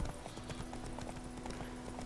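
Horse hooves clip-clop in The Witcher 3 video game, a steady, even trot of close, crisp hoofbeats over a constant low hum of game ambience.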